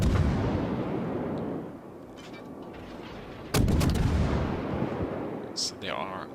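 Warship cruiser guns firing in the video game World of Warships: heavy booming salvos with rumbling roar, one sharp loud blast midway, followed by lingering rumble and a short whistling tail.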